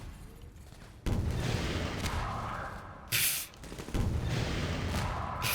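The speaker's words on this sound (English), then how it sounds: "I'm gonna use these rockets." Heavy rocket blasts in Half-Life 2: Episode One, a sudden loud boom followed by rolling, crackling explosions and a sharp bright burst, with a brief lull before the roar resumes.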